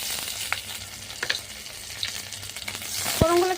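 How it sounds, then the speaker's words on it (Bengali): Dried chilli and chopped onion sizzle steadily in hot mustard oil with crushed garlic, a continuous close frying hiss with a few sharp crackles and a brief clink near the end, no talking. "ফোড়নগুলো একটু ভেজে নেবো।"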